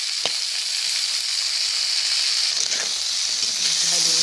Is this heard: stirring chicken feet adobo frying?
yes